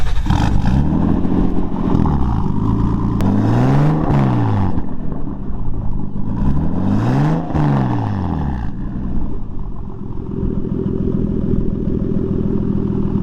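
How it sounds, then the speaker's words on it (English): A Nissan R34 Skyline engine with a front-mount intercooler fires up close by and revs several times, rising and falling in loud sweeps before settling into a rough, steady idle. "I know everybody's probably wanting to hear a little engine start up."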